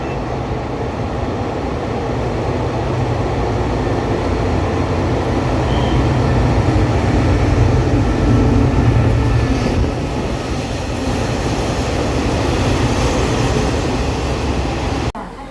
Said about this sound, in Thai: รถไฟมาถึงก่อนเวลา ที่กำหนดไว้ 10 นาทีได้นะครับ